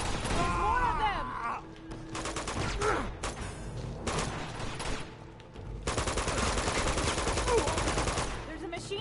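Machine gun fire in Uncharted 2, long sustained bursts of rapid gunshots broken by brief pauses, mixed with game effects and voices talking over the shooting.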